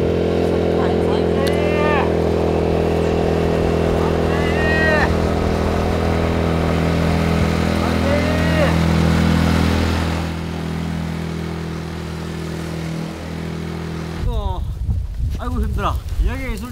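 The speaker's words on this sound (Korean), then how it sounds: "오토바이 소리 나는 거 아니야?" A steady engine drone holds through most of the clip, with brief voices over it and clattering noise near the end.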